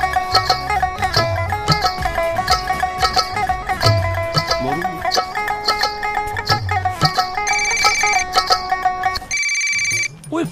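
A mobile phone ringtone playing repeatedly in a Punjabi comedy film scene, a loud looping melodic tune with a steady rhythm that cuts off near the end, with a voice heard faintly underneath.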